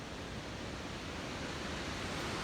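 A waterfall in North Cascades National Park pours steadily, its constant rushing hiss loud and unbroken, with no speech over it.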